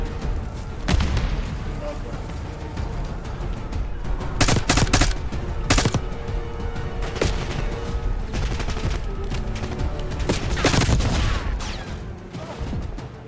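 Dense gunfire fills a Call of Duty: Black Ops 6 campaign battle near a convoy: rapid automatic bursts and heavy booming shots over a constant rumble of combat, with game voices mixed in underneath.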